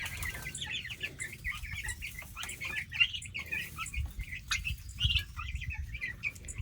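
Chickens cluck and chatter continuously outdoors on pasture, a busy flock at moderate distance with faint bird chirps mixed in, no voices.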